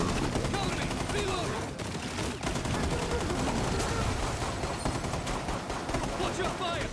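A cluster charge detonating in the video game R6 Extraction, a loud, dense string of rapid blasts and crackling bursts filling the whole stretch, up close, with a voice occasionally speaking beneath it.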